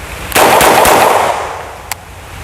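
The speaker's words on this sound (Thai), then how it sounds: "ยิงทดสอบแบล็งกันซูรกิ 925 ตัวนี้ใส่แม็กยาว 25 นัด" A Zoraki 925 blank pistol loaded with a long 25-round magazine fires a loud, rapid burst of blank shots, followed after a short pause by one more sharp report.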